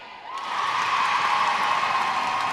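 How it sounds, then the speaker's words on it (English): Spectators at a netball match between Gibraltar and the Isle of Man clap and cheer in a steady, moderately distant wash of applause that swells after a quiet start and holds level. "The crowd enjoying that one."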